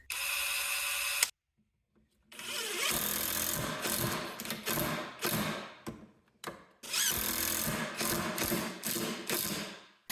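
DeWalt drill and impact driver drive screws at low speed, giving loud, close whirring and ratcheting bursts that stop and start in short, controlled runs with brief silent gaps and no voices.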